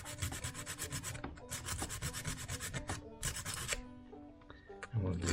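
Sandpaper rubs back and forth over the small metal contacts of an automotive fuse panel in quick, scratchy bursts, with a few short pauses between passes and a brief knock near the end.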